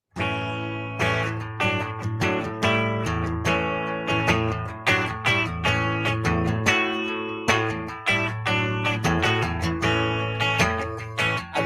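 An electric guitar plays a quick run of single notes in the Mixolydian scale with a few sustained tones, clear and upfront with a slightly driven tone, no voices.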